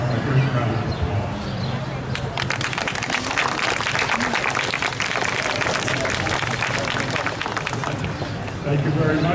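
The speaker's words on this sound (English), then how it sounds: "So they deserve a great round of applause." A crowd applauds outdoors at a Memorial Day parade and ceremony in Chappaqua, sustained clapping spread across many people, with voices and background activity mixed underneath.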